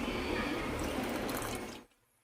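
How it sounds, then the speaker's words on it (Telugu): Half a glass of water splashed into a pot of chana (Bengal gram) being prepared for jaggery payasam gives a steady close-up pour for nearly two seconds, then cuts off abruptly into quiet. "హాఫ్ గ్లాస్ వాటర్ వేసుకొని"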